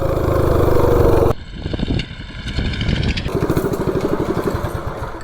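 A small mini bike engine runs loud and close, its buzzing note dropping briefly before climbing again as it accelerates hard, with no voices present.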